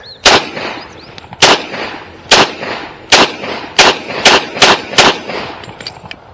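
A SIG 1911 pistol fires nine loud, sharp shots close by. They come at an uneven pace, spaced roughly a second apart at first and quicker toward the end, with metallic clinks between them.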